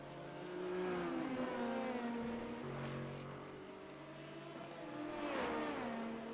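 GT3 race car engines in iRacing at Circuit Gilles-Villeneuve whine through a corner, their pitch sliding down under braking and climbing again, with several overlapping car tones at moderate distance.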